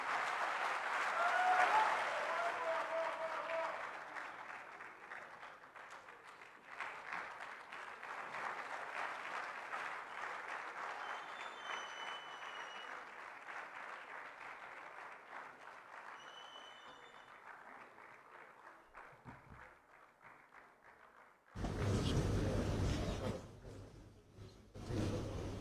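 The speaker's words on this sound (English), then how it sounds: "Round of applause again" Long, sustained applause from an audience after a speech at a public dialogue with Julius Malema, dense clapping that swells, gradually thins over about twenty seconds, then gives way to louder noise near the end.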